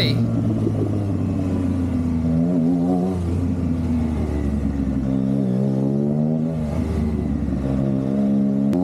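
A motorcycle filters through heavy city traffic in BGC, its close engine droning steadily with revs that rise and fall as it weaves between cars, loud and continuous throughout.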